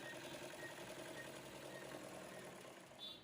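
A sewing machine with a faulty meter runs steadily and continuously, its motor hum close and even throughout with no breaks.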